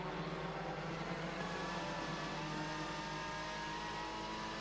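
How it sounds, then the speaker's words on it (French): WTCC touring cars racing at Monza, with Honda and Chevrolet Cruze cars battling for position, a steady engine roar heard from a distance, fairly faint and unbroken, with no talk. "Il est passé Thiago Montero, qui s'est débarrassé de l'autre Chevrolet Cruze du team Bamboo, celle de James Nash."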